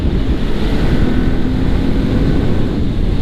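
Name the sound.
wind noise while riding a Kawasaki Ninja 400 motorcycle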